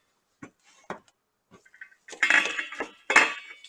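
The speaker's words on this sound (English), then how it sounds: "Now we do the big stir." A spoon scrapes and clinks against a pot while Mongolian beef rice is stirred in a big turn, several sharp metallic knocks then a louder scraping rustle, close and isolated, with no talking.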